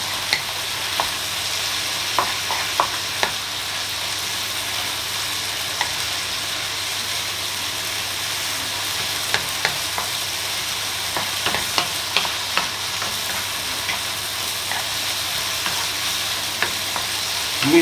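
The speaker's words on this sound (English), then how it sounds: "just keep on cooking to get all the moisture out of the mushrooms. Just cook some of this juice off on the bacon." Bacon and mushrooms fry together in a pan for an omelette, giving off a constant even sizzle with light scattered crackles throughout, close up and uninterrupted by any speech.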